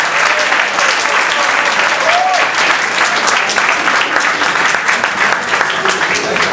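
An audience at a GameWorld party breaks into loud, sustained applause, dense clapping filling the room steadily throughout.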